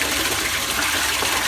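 Water rushing steadily into a pressure washer tank through a Hudson float valve, a loud, continuous hiss and gush with no pauses.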